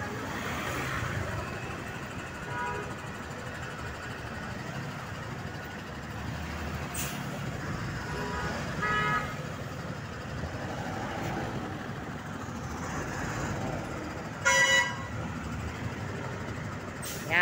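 Dense street traffic in Nabalichis, Tondo: a steady wash of engines and passing vehicles, with brief sharp bursts that may be horns or brakes near the middle and end, no talk.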